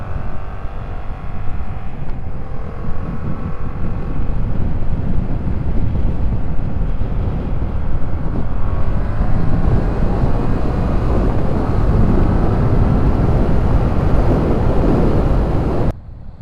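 Steady roar of a Yamaha MT-07 motorcycle ridden on New York streets for food delivery, loud wind buffeting the microphone over the engine drone, continuous and close, cutting off abruptly at the end.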